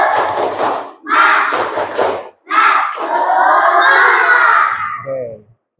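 A class of students on a school sports field shout a rhythmic clapping chant together in bursts, with loud voices and claps rising and falling across several short phrases.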